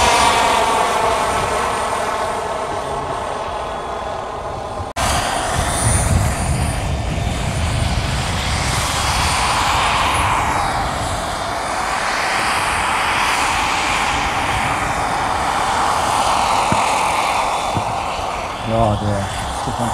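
A radio-controlled model helicopter flies at an outdoor model airshow, its whining rotor and engine drone steady and fairly loud throughout, with a shifting pitch as it manoeuvres and a voice talking over it.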